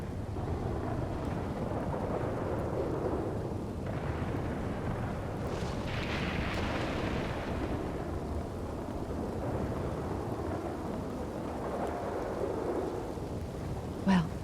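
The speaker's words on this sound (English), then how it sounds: "you all enjoy the rain" Steady rain with low rolling thunder fills the whole stretch, a dense, continuous wash of noise that holds at an even loudness without pause.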